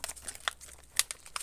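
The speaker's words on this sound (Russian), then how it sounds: "Вот мы открыли вот такой вот пакетик." Cat Chow cat food pouch being torn open, a few short crinkly rips and plastic crackles close by, quiet and alone with no talking.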